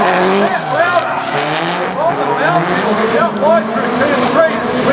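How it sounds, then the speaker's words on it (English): Tires squeal as an SR20-powered Nissan 180SX drifts through a qualifying run at a D1NZ drifting championship round in Tauranga, with wavering engine and tire tones sustained loud and close throughout, under an announcer's voice. "putting on a slick drive in the SR20 powered 180SX"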